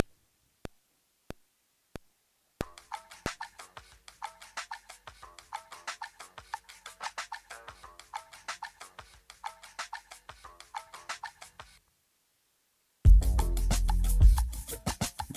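A beat intro built on an Akai MPC from a bounced sample: a few isolated ticks, then a run of crisp rhythmic clicks and chopped hits, a sudden gap of silence, and a loud, full, punchy beat slamming in at the end.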